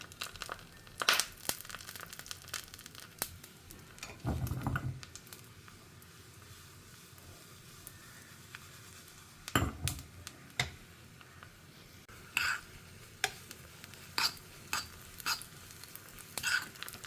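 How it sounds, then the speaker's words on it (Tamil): Vadagam, a sun-dried seasoning ball, frying in sesame oil in a pan for a Tamil shallot vatha kuzhambu, with quiet sizzling, crinkling and occasional stirring scrapes, moderately close and without talk. "இது நல்லா பொரியட்டும்."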